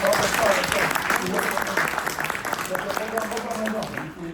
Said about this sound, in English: Please join me in a round of applause for our speakers.